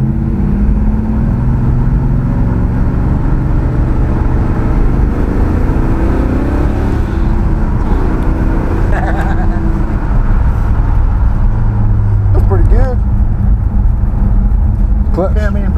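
A 1955 Chevy driven after an engine swap, a loud continuous engine rumble throughout with a brief rise in revs partway, and a voice speaking over it.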